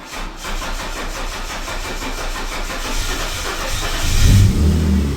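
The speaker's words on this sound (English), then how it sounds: "Hear the fuel pump kick in, we'll give her a few primes." Car engine cranking and catching after a few fuel pump primes, idling and revving up loud and close near the end, with a steady hiss underneath.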